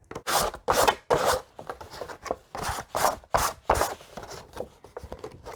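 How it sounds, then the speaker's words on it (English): Repeated rasping strokes of a sanding sponge scraping along paper edges, a brisk irregular rhythm of short bursts, close and fairly loud. "I'm going to use my sanding sponge and sand off the edges of the paper"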